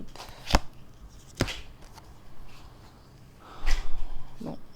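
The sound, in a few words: cutting a deck of cards for a reading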